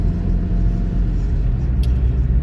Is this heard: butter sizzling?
no